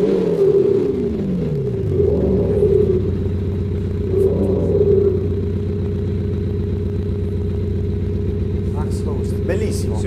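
Car sound booster fitted near the exhaust producing a synthetic sporty exhaust note, a steady low droning rumble with a couple of swelling rises, continuous and fairly loud throughout.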